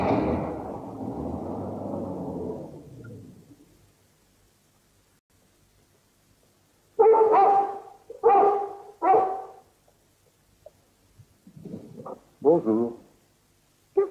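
A few dogs bark outdoors at night: a burst of four or five sharp barks, a pause, then a few more scattered yaps, fairly close and loud after a fading stretch of hiss, with no talk.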